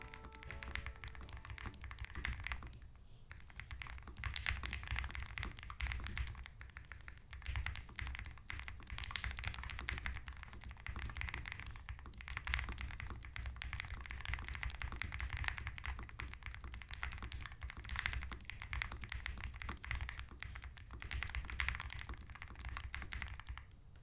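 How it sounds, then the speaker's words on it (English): Typing on a Melgeek O2 low-profile keyboard, a continuous close run of soft rapid key taps in an uneven rhythm at steady moderate loudness, with no talking. "the switches and sounds from typing had a soothing feeling that made it easy to type with"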